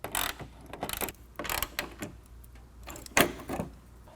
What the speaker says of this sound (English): I'm going to use a 1/2 inch socket to tighten that up.